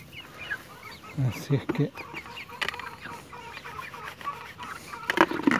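Nine young chicks kept apart from their mother in a pen on a small egg-producing farm, cheeping in high scattered peeps over a hushed background, with a few louder fowl clucks mixed in and someone speaking briefly.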